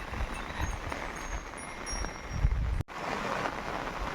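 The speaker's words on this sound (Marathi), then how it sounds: "पाऊस जोरात सुरू झाला आहे" Steady heavy monsoon rain on farmland hissing across the whole clip, a dense broadband wash with low rumbling gusts and a brief dropout near the end.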